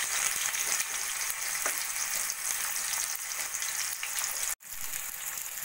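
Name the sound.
thinly sliced onion frying in hot oil in a kadai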